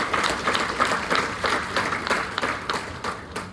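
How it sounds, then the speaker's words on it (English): An audience applauds at a community meeting held by Mercy Services Singleton, producing a dense, steady patter of many hands clapping close by, with no speech over it. "So just round of applause for everyone for attending."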